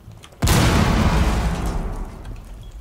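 A loud, close explosion in the video game Rainbow Six Siege bursts suddenly with a heavy boom, then leaves a long rumbling, crackling tail that fades slowly.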